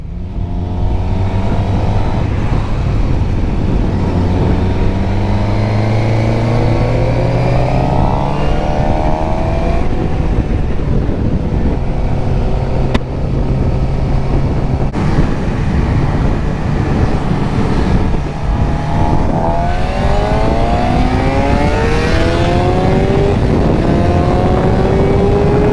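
Suzuki GSX-R 600 sport bike engine on a group ride, revving loudly and continuously with rising and falling pitch sweeps after a missed shift into second gear, close and steady throughout with wind rush.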